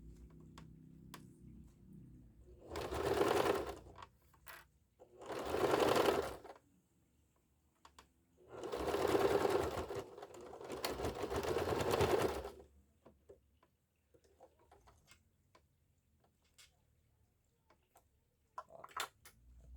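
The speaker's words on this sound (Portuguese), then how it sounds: "agora a gente volta a costurar normal" Sewing machine stitching a synthetic leather wallet in four short whirring bursts separated by quiet pauses, close and clear with faint handling clicks between runs.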